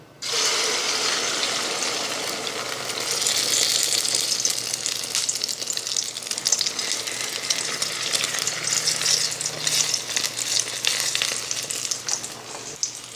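Eggs frying in oil in a well-heated pan over very low heat, a steady close sizzle with crackling spits and bubbling, continuous and fairly loud throughout with no talk.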